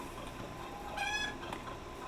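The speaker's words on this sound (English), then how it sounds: "The calming clucks" Chickens in the survival video game Icarus give a single short, soft cluck over a steady low background hum, fairly faint and alone.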